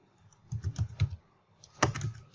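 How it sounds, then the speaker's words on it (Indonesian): Two short bursts of computer keyboard typing, quick clustered keystrokes close by in a quiet room, with a brief pause between them. "kita bisa mengetik di sini"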